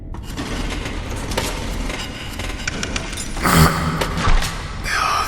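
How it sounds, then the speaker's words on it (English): In the video game STASIS, a crowbar is used on a toolbox, producing a run of clanking metallic thuds and scrapes. Louder bangs arrive near the end, all heard over a constant low ambient drone. "I use the crowbar on the toolbox."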